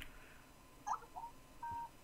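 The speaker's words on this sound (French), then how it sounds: "Ça, c'est mon téléphone." Short electronic mobile phone tones, a couple of brief beeps followed by a sustained tone, fairly faint over a quiet background with no talk, heard during a Minecraft session.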